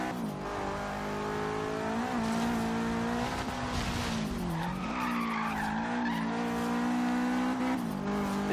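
Subaru WRX STI in Forza Horizon 3, a 500 hp street build, howls through a corner on the e-brake, its engine note rising and dipping steadily while tires skid and squeal, loud and continuous throughout.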